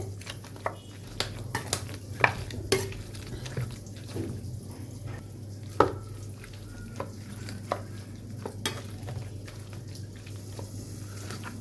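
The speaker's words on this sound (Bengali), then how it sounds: "পটলগুলো ভালোভাবে ভাজা হোক" Pointed gourd (potol) frying in a pan, a steady low sizzle with scattered crackles and pops from the oil and occasional stirring scrapes, close and moderately loud with no talking.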